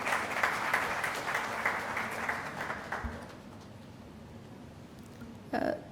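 An audience at a Urdu poetry gathering breaks into applause, a dense patter of clapping that carries strongly for about three seconds and then fades out into quiet room tone, with a brief bump of noise near the end.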